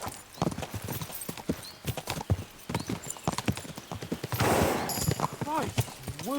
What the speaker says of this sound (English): We should spur the horses on.